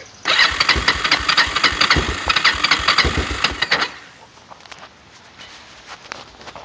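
A Kawasaki Lakota ATV engine cranks over steadily and loudly with rapid rhythmic pulses for several seconds. Then it drops to a quieter, uneven idle or sputter.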